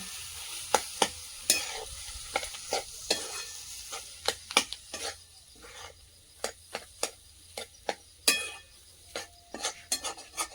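A vegetable filling of new potatoes and peas with coriander leaves, stir-fried for potato chops: a long run of rhythmic spatula scrapes and knocks against the pan over a faint, low sizzle, heard close without any voices.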